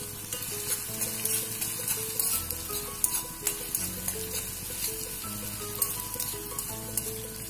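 Onions sautéing in a pan for a wheat-flour dosai dish, with a steady sizzle and occasional stirring scrapes throughout, close and moderately loud with no talking.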